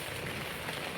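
Heavy monsoon rain pours down in the Sahyadri hills among paddy fields, a dense, steady hiss with no gaps, moderately loud and alone.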